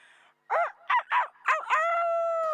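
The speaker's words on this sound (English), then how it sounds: "As soon as you hear the rooster, you can jump up and go." A rooster crows once, loud and close, its call rising in a few bursts and ending in a long sustained note.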